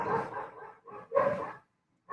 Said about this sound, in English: Is that your dog or mine?